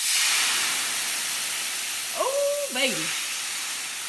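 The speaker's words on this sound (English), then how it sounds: "While this pan is still hot, we're gonna take a little marsala and we're gonna deglaze our pan." Marsala poured into a hot pan on a switched-off stove to deglaze it, giving a steady, close hiss of sizzling steam throughout, with a brief excited exclamation from a voice partway through.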